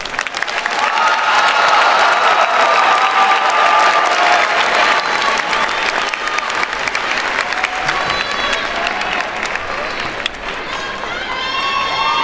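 An audience at a 2022 graduation diploma and awards ceremony claps loudly and steadily, with some cheering mixed in. The sustained applause from a large crowd fades slightly toward the end.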